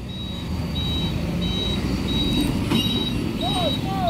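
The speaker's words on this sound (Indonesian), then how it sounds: "di sini ada truk tangki CPO yang mau menolong ya." Palm oil (CPO) tanker truck reversing on a road, its steady intermittent beeps repeating about every second over a constant rumble of traffic and engine noise.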